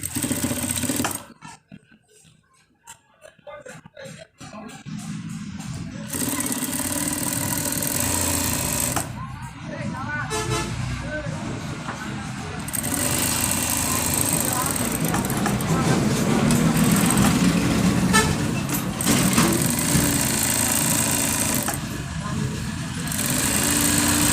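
A sewing machine stitches the button placket of a men's shirt, its steady motor hum running in long stretches with a brief pause early on, loud and close under a continuous speaking voice.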